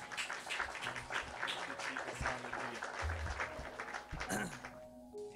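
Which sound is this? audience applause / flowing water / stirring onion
audience applause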